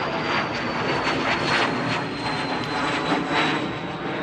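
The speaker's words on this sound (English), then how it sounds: "I'll play the funny jet noise" A recorded jet aircraft roars steadily with a continuous engine drone and a high whine, loud and sustained throughout, with no voices over it.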